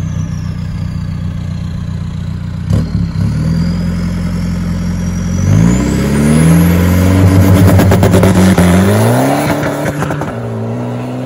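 A VW Polo TDI fitted with a bigger turbo revs and accelerates hard on launch control, its engine note climbing loud and close with rising harmonics and a whooshing boost build.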